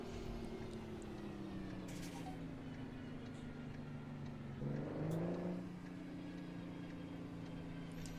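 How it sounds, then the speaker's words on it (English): An old Mack log truck in American Truck Simulator drones with a steady low engine hum, briefly rising in pitch and loudness as it revs or shifts midway, then settling back into its even drone. "this old Mack truck's really humming now"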